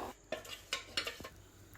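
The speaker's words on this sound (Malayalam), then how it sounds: "ഇപ്പോൾ തന്നെ നമ്മൾ കൈ വെച്ചിട്ട് നല്ലോണം ഒന്ന് മിക്സാക്കി എടുക്കുന്നുണ്ട്" A hand mixes loose appam rice batter in a bowl, giving a few soft, wet stirring strokes and light knocks in a quiet kitchen.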